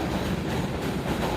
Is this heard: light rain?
no